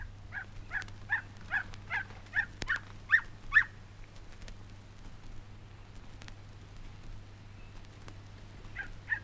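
A Natal Robin mimics a neighbour's dog, giving a quick run of about eight evenly spaced yapping notes, then a pause before one more yap near the end, clear over a low steady hum.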